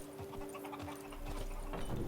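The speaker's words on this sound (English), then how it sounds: "Even a horse drops if you ride it at a constant gallop." A horse's hooves clip-clop in a quick, soft rhythm in The Witcher 3, faint beneath a steady low hum and background ambience.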